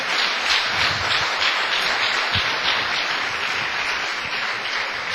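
Congregation at a pastors' gathering breaks into steady applause, a dense, even wash of many hands clapping that holds for several seconds with no talk over it.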